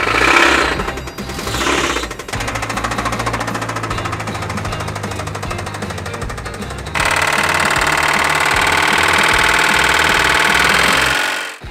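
A Toyota engine running on maple syrup instead of oil cranks and catches, then runs with a rapid, harsh metallic rod knock that grows louder and denser as it revs.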